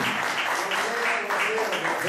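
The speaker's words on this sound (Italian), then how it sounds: "un applauso a Gianni" Steady audience applause for a guest on a music show, a brief dense burst of many hands clapping at moderate volume.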